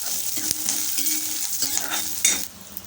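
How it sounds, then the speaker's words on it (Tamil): Ginger, curry leaves and dried red chili frying in hot oil, a steady close sizzle with light stirring scrapes and a couple of sharper utensil taps, no talking. "எல்லாமே எண்ணெயிலே வறுபடட்டும்"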